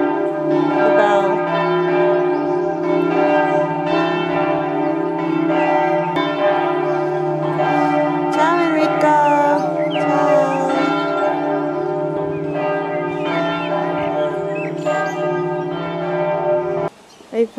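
A church bell near a medieval bridge in Cividale rings steadily for the whole stretch, its deep tone humming continuously with rich overtones, loud and close.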